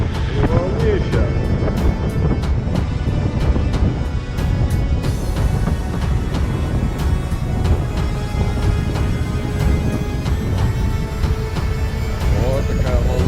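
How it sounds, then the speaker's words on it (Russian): Strong wind and breaking sea waves roar continuously around a sailing yacht in about 20 knots of wind off the Turkish coast, a loud, unbroken rush of water and gusting air across the microphone. "Вот такая волна идет."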